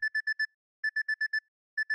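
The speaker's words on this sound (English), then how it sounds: "Why is my alarm going?" Video game alarm clock ringing in bright electronic beeps, bursts of four or five quick tones separated by short pauses, clear and alone with no talking.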